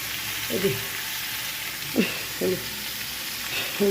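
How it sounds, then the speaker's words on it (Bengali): Potatoes frying in a pan for a prawn and pointed gourd dish, with a steady low sizzle broken by a few short scrapes or clatters of stirring. "আলু কত ভাজা হয়ে গেছে"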